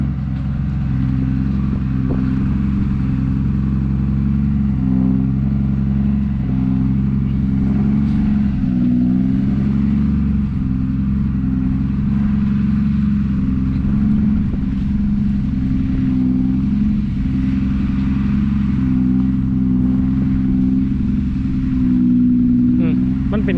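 A tractor engine works steadily in a wet, muddy rice field, its deep mid-range drone and low rumble continuous and close throughout, with brief voices now and then over the running motor.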